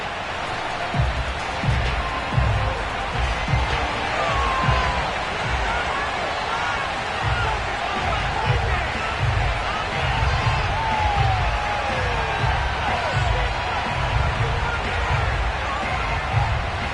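A stadium crowd cheers and murmurs in a Madden NFL football game, a steady roar of fans held under a commentator's voice throughout.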